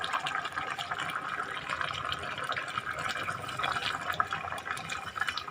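Water pours steadily into a pressure cooker holding mutton for a healthy mutton curry, a continuous close splashing fill with no talk over it.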